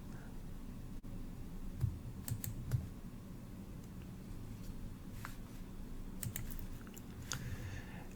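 Computer keyboard keys and a mouse being clicked while working in editing software, scattered quiet clicks and short bursts of key taps over faint room hiss, with no talking.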